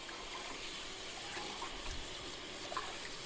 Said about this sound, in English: rinse it with cool water because we want to get all that salt